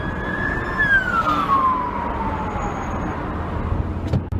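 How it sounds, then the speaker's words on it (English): A siren wails in a falling sweep over steady road and traffic rumble, fading as the vehicle passes at a moderate distance. "And there's the ambulance and the tow truck."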